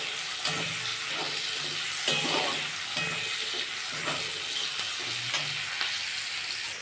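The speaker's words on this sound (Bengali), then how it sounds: "এবার আমি তেলের মধ্যে পেঁয়াজ দিয়ে দিচ্ছি। পেঁয়াজটা আমি এবার ভালো করে ভাজবো।" Onions frying in hot oil with black cumin seeds in a home kitchen, a steady close sizzle and crackle running throughout with occasional stirring clatter, no voices.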